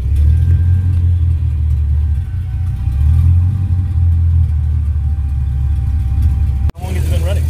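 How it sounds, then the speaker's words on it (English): A 1964 Chevrolet Malibu with a 4L80E transmission idles with a surging, uneven rumble, the low engine note swelling and dipping steadily up close before a brief cut near the end. "I don't know if you can hear that idle. It's kind of surging around."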